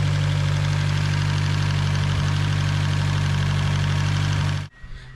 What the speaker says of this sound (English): and that is lifter tick